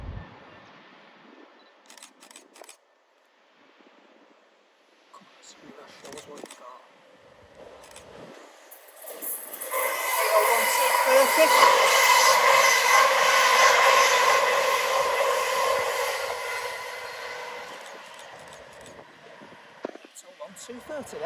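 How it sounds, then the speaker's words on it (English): A fast LNER train bound for London King's Cross rushes straight through Doncaster station at night, building from distance into a loud, broad roar that peaks and fades over about ten seconds, with camera clicks and a few scattered sounds before it arrives. "coming up now is the fast London King's Cross service of LNER. Straight through the middle"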